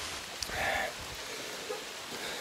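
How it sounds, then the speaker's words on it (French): Steady rain pattering on leaves and ground under forest trees, a continuous soft hiss with a few brighter drops and a brief faint murmur near the start. "Il commence à pleuvoir, heureusement qu'on est sous des arbres parce qu'il commence à pleuvoir vraiment"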